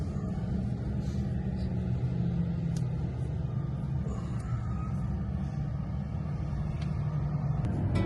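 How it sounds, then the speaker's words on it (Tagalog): Steady road traffic rumbling past outdoors, a continuous low drone of cars and trucks close by that holds level throughout with no break. "Traffic be coming"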